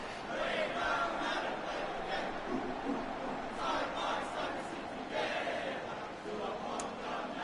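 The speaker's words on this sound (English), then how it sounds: "You can hear the cheer squad in the background who have made the trip to Brisbane tonight" Cheer squad crowd cheering at a Brisbane Lions vs Collingwood AFL match in the AFL Evolution 2 video game, a continuous roar of massed voices that swells and eases, with some talk mixed in.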